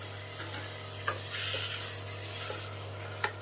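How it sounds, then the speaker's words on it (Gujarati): Brinjal and tomato cooking in oil for sambar, a steady close sizzle under a constant low hum, with occasional sharp clinks from a spoon against the pan. "આપણા રીંગણાને પણ આપણે અડધી મિનિટ સુધી ચડવા દેશું તેલમાં જ હવે એની અંદર નાખી દઈએ ટમેટું"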